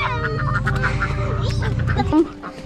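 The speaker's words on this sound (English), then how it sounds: "There's the ducks." Ducks quacking on a homestead, a busy run of overlapping calls close by, with chatter and a voice mixed in before things quiet near the end.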